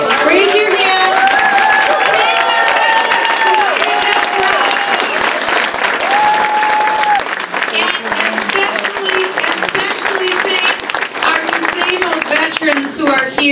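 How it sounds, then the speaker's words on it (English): Loud, sustained applause from a crowd honouring veterans at a political speech in a boxing ring, dense clapping throughout, with a tonal background sound running under it for the first several seconds. "Let's give a round of applause to all of our veterans that are here"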